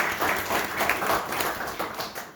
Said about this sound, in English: I think Bill also needs a round of applause